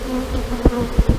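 Honey bee swarm buzzing close by near the hive entrance, a continuous insect drone with a few brief louder passes of bees near the microphone.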